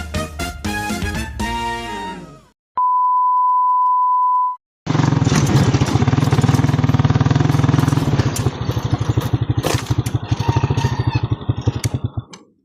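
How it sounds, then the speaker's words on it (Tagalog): A motorcycle engine idles and runs close by with a rough, rhythmic putter, after a short stretch of music and a steady electronic beep. "Nandito na naman po yung motor."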